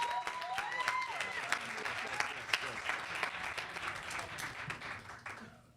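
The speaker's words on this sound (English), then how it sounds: "Big round of applause for our moderator." An audience at a talk reflecting on the 2015 Selma pilgrimage claps for the moderator, a dense round of applause that tapers off over several seconds, with a few louder individual claps and faint voices mixed in.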